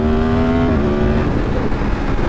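A Mazda Miata pulls away and accelerates past on a street, its engine note rising and then shifting pitch as it goes by. The sound is loud and close, with no talking.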